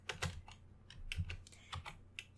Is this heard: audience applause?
no